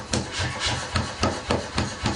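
A smith strikes hot iron and steel over an anvil to forge a blade, delivering a run of sharp, regular hammer blows. About eight evenly spaced impacts ring out over a rasping, scraping background.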